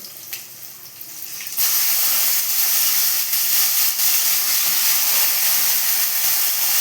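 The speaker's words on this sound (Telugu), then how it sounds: "ఈ పచ్చిమిర్చి కూడా వేసి వేగనిద్దాము" Green chillies, garlic and eggplant pieces with turmeric and curry leaves fry in a pan, a steady loud hissing sizzle that jumps up sharply after a quieter start and holds continuously with no talking.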